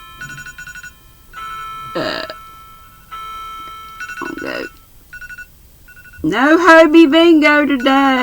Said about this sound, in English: That's my alarm for Hobie Bingo.